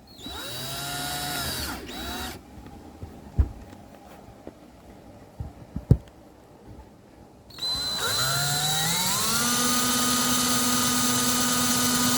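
A power drill bores a hole with a 3/16-inch bit into a solid workpiece, whining up to speed, pausing through a quiet stretch with a few knocks, then running again at a steady, loud, close pitch.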